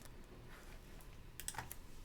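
Computer keyboard keys tapped a few times while recording in Logic Pro X: soft, sparse clicks, close but quiet over a low hiss, with no talk.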